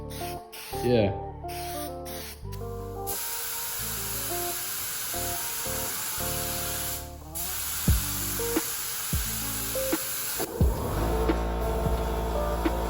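Spray gun applying base coat to a C4 Corvette hisses in repeated bursts of varying length separated by short pauses, with a single brief spoken word.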